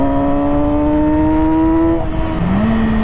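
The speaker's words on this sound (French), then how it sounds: "le frein moteur est très violent aussi" A 2009 Yamaha YZF-R6 sport motorcycle engine braking, its loud, close whining engine note sliding steadily lower for two seconds before dropping to a deeper tone, with no talking.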